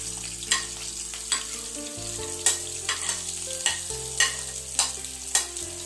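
Sliced onion fries in a pan while a spatula scrapes and stirs it in a steady rhythm of sharp knocks over a continuous sizzle, with soft tonal music underneath.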